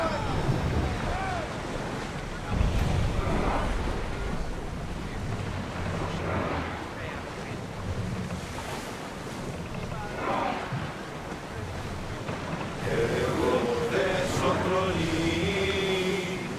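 A sailing ship moving over ocean waves in Assassin's Creed set in ancient Greece, with a continuous rush of wind and water, a steady wash of surf, and voices talking over it.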